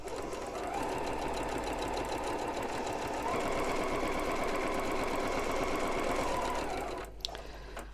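A sewing machine runs steadily while stitching a fabric table mat seam, a fast close mechanical whir that shifts pitch slightly midway, then stops abruptly near the end with a click.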